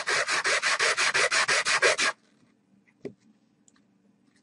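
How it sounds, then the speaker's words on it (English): About a dozen quick, rhythmic scraping strokes of an eggshell mosaic bracelet piece rubbed back and forth on a sanding block, then near silence with a single faint tap. "run my piece over the surface of the sanding block"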